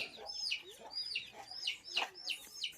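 Chickens cluck close by in a quick, uneven run of short throaty calls, with no other sound competing.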